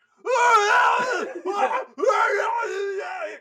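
A person's voice imitating a radio blaring screams, producing loud, close, strained screeching wails in three drawn-out bursts separated by brief gaps.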